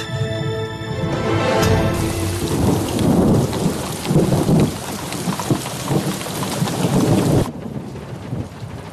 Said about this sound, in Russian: Когда прекратится этот дождь?